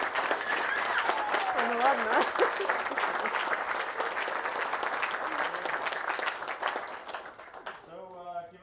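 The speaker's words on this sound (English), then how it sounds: "How about a big round of applause for..." An audience at a blacksmiths' conference applauds for several seconds with steady, dense clapping, voices mingling underneath, before the applause fades and a person speaks briefly at the end.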